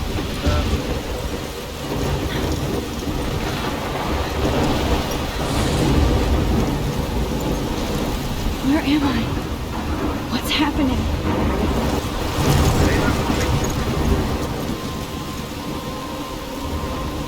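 Thunderstorm in the video game Life Is Strange: steady heavy rain roars throughout with loud thunder cracks and rumbles rolling in, while a voice speaks over the storm.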